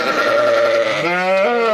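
Kangal sheep and lambs bleat in a continuous wavering call with no pause, close and loud, the pitch stepping up partway through as a second animal joins.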